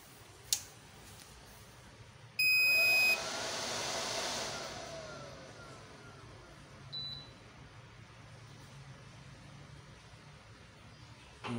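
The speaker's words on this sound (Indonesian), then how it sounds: "Untuk pertama kali saya nyalakan inverternya terlebih dahulu." A 24-volt, 3000-watt pure sine wave inverter with 220V output and casing switches on with a short, loud, steady electronic beep. A hiss follows and fades, with a few faint clicks in a quiet room.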